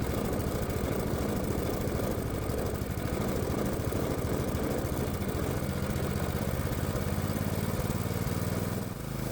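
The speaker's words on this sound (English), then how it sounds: "I did get the engine to idle nicely." A 212 Predator small engine fitted with a cheap, fully adjustable carburetor idles steadily on a test stand, a continuous rough low putter that stops abruptly near the end.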